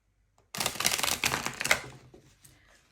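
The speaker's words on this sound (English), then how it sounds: "Just trying to shuffle these cards" A deck of tarot cards is shuffled close up in a quick burst of papery riffling and flicking for about a second and a half. Softer card taps and rustles follow, and no one speaks.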